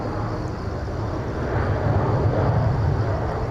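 China Southern Airbus A320 airliner landing at Incheon airport, Seoul: a steady, loud broadband jet roar that swells slightly midway, with no voices.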